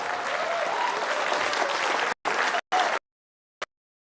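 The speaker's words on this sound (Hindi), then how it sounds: "एक बार खड़े होकर जरा गर्मजोशी से ताली बजा दीजिए" An audience rises for a standing ovation at a Bollywood stage event, loud sustained applause filling the room, then breaking off abruptly with a couple of short bursts of clapping and a final lone clap.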